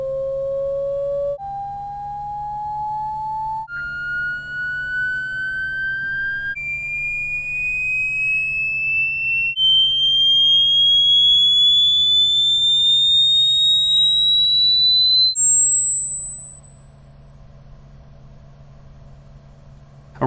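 A Samsung Galaxy Note 8 phone speaker at full volume playing a rising series of steady pure test tones, each step pitched higher than the last, loud and continuous for about twenty seconds with no talking.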